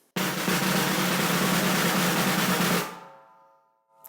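A loud, buzzy snare drum press roll with uneven technique sustained for a few seconds, then cut off and left ringing briefly.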